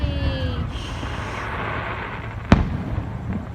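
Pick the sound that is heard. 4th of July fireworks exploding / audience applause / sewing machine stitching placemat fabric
4th of July fireworks exploding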